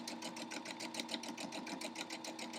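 A sewing machine runs steadily, stitching shredded fabric strips into a flag-themed quilt crumb block, its rapid even needle rhythm continuing throughout at moderate loudness with no talking.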